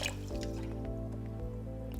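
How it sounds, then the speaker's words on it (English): Rice being rinsed in water in a single pot, with steady wet sloshing and dripping throughout, close and fairly loud, with no talking. "you want to rinse this about maybe 4 to 5 times until the water becomes more transparent"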